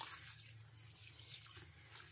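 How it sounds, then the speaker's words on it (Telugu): Water runs into a bowl of split black gram (urad dal) during rinsing, a faint, steady splash and trickle heard alone at close range. "ఇలా వాటర్ వేసుకొని ఇలా 2 సార్లు శుభ్రంగా వాష్ చేసుకోవాలి"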